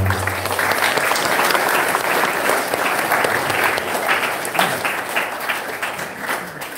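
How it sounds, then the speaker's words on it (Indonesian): Sustained audience applause at a school student council and extracurricular officers' installation ceremony, dense and steady clapping from a crowd that tapers slightly toward the end. "Kasih aplaus untuk kita semua."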